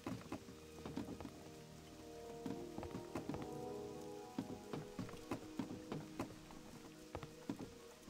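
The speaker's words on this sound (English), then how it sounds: "It's been raining." Rain patters on an outdoor surface, with irregular louder drops and splashes tapping over a steady soft hiss, quiet and continuous with no voices.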